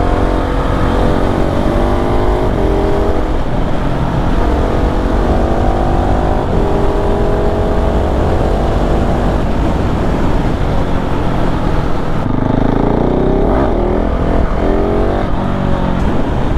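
A 2021 KTM 690 SMC R single-cylinder motorcycle ridden on twisty roads, its engine loud and close throughout, rising and falling as it accelerates and shifts, with wind rush mixed in.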